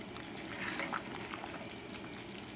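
Beans with ham and turkey simmer in a pot on the stove, giving a steady, soft bubbling and gurgling close by with no talk over it.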